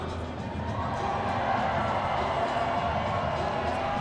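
Roller derby fans in an arena cheer during a close bout between the Breakneck Betties and High Rollers, a loud sustained crowd roar that holds steady throughout.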